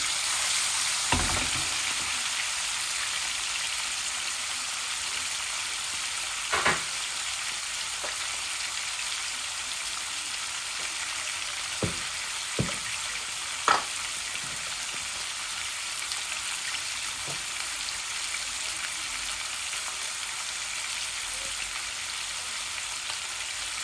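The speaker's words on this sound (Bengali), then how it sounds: "এই যে আমার এক পাট হয়ে গেছে মাছ ভাজা" Tilapia fish frying in hot oil gives a steady, dense crackling sizzle throughout, with occasional sharper pops and spatters standing out above the constant hiss.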